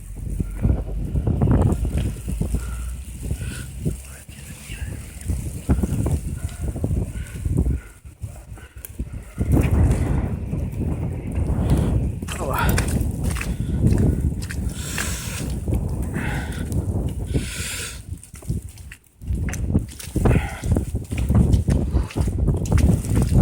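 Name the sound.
strong wind blowing during an April snowstorm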